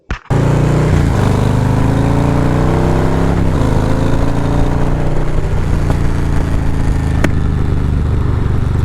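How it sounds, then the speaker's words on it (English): A motorcycle cruises along a road on the ride home, its engine droning steadily and loudly up close with wind rush over it, apart from a brief gap at the very start. "We are back on the bike on our way home."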